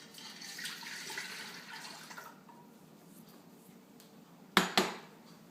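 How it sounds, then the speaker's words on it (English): Liquid poured into a big stainless steel pot, a soft steady splashing for about two seconds, followed later by two quick metallic clanks close by. "Now we're going to pour it in a big pot, like a stainless steel pot."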